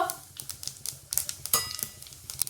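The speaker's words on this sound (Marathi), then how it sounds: "तेल छान तापलं की आपल्याला टाकून घ्यायची आहे 1 चमचा मोहरी, 1 चमचा जिरं, पाव चमचा हिंग" Mustard seeds, cumin and asafoetida crackle in hot oil, giving rapid, irregular sharp pops and snaps like scattered typing, close and fairly quiet with no voices.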